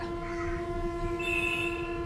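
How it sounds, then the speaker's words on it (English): A train departing a station on a trip to Ooty sounds a long, sustained horn with a strong steady tone held throughout, over the low rumble of the moving carriages. "the train started with a jerk. It moved very slowly, leaving the station with a long hoot"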